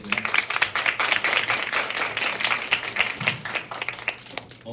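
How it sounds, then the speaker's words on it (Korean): A lecture hall audience gives the speaker a dense, sustained ovation, many hands clapping at once in a continuous roar that holds steady throughout. "큰 박수 부탁드리겠습니다"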